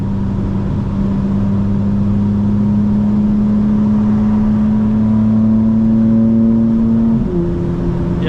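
A 2025 BMW M4 Competition xDrive with XHP tuning accelerates from inside the cabin, a steady loud engine drone climbing in pitch before a quick gear shift drops the revs near the end.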